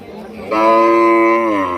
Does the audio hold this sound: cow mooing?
yes